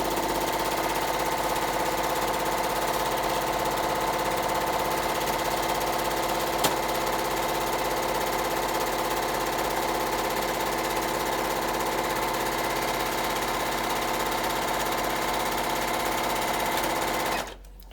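A Tugi Premio 73 sewing machine running continuously at steady speed, a loud, even mechanical whir and rapid stitching rattle that cuts off abruptly at the end.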